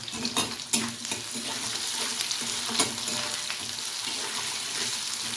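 Onion, garlic, nigella seeds and green chili fry in a pan for a Bengali egg curry with soybean gravy, giving a steady close sizzle with a few louder crackles and stirring scrapes, no voices.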